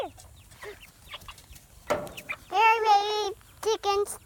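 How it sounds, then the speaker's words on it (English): Chickens in a backyard chicken tractor at feeding time cluck and squawk up close in short bursts, with a couple of longer drawn-out calls near the end over quiet background noise. "it's chow time for the chickens"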